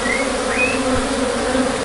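A dense, continuous buzz of many honeybees around a hive box entrance fills the air, steady and loud, with occasional higher whines of individual bees passing close.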